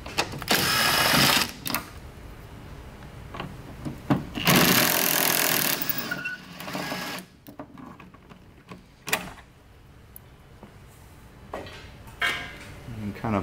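Power tool spins out 10 mm bolts from the inner fender of a 2009-2018 Ram 1500 pickup, two loud close bursts of whirring separated by clanks and handling noises, with a voice talking nearby.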